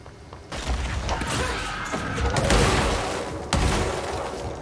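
A kamikaze enemy blowing up in the game Control amid combat, a jumble of loud bursts, clattering debris and mechanical crunches, with a sharp blast near the end and no talking.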